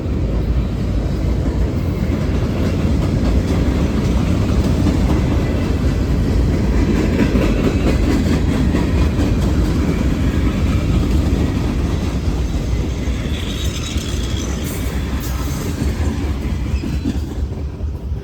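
A long freight train of over 150 cars rumbles past close by, a steady heavy roar with clattering wheels that holds loud for the whole stretch.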